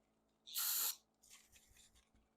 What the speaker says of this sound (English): I'm going to spray a lot of carb cleaner just down in the bowl